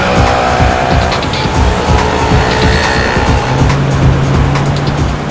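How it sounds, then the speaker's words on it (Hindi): A car speeds along during a chase in a TV crime drama, its engine roaring loud and steady with tire noise and faint squeals, dense and close throughout with no voices. "गाड़ी तेज चलाओ"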